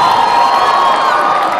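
A lively crowd cheers, whoops and shouts at a district evening celebration, a bright continuous roar with no distinct claps standing out.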